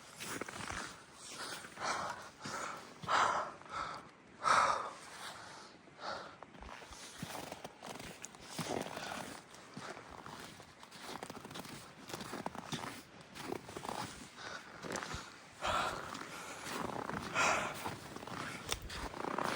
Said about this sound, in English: Sorry for the heaving and panting.